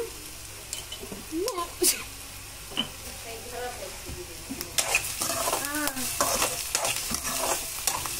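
Maggi noodles with salt and turmeric being stirred in a pan: continuous frying sizzle with scraping and clinking of a spoon against metal, plus scattered faint voices in the background.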